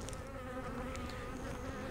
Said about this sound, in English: There's bees